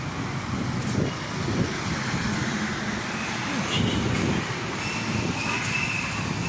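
A metro rail train runs along an elevated line at Farmgate in Dhaka, its steady rumble blending with a busy road's traffic noise, holding continuous and moderately loud throughout with no speech.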